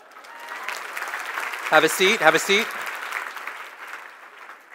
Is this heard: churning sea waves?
no